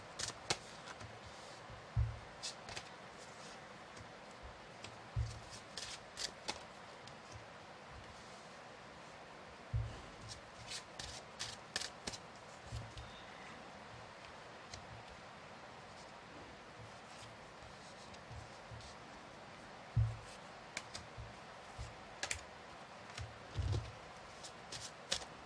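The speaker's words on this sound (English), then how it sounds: "Another shuffle, they say." Tarot cards are shuffled at close range, producing soft irregular riffling and papery flicks scattered over a quiet room background, with occasional louder taps.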